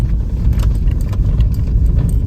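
A small car's engine labours loudly and steadily while climbing a steep mountain road in Spiti Valley, a continuous low droning strain with no one speaking.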